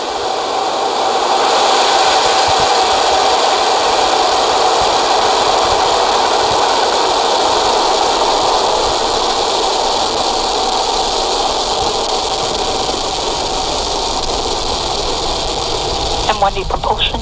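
At liftoff, a SpaceX Falcon 9 rocket carrying Starlink satellites fires its Merlin engines. A steady, dense broadband roar holds at an even level throughout, with a few faint crackles near the end.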